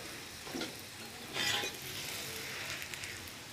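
An aloo paratha sizzles quietly in oil on a pan over low heat. The frying stays soft and steady throughout, with a brief louder crackle near the middle and no talk.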